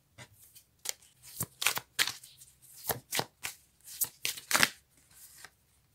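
Tarot cards shuffled back into the deck by hand, a series of soft, quick riffling and sliding bursts in an irregular rhythm, close and quiet with no talking.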